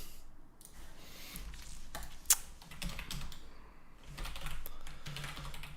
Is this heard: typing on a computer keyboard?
yes